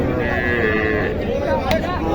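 A cross-breed Shahiwal calf gives one drawn-out, loud moo close by, with farm background noise underneath.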